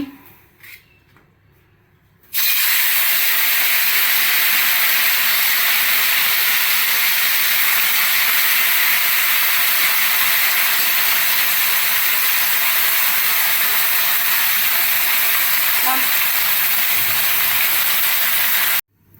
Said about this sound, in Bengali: এই যে তেল গরম করছি, এখন মাছগুলো ভাজছি